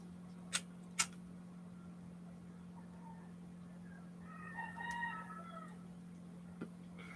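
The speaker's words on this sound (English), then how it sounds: "Now you can hear fucking roosters in the back" A rooster crows faintly in the distance, one drawn-out call in the middle of a quiet night scene, preceded by a couple of sharp close clicks over a steady low hum.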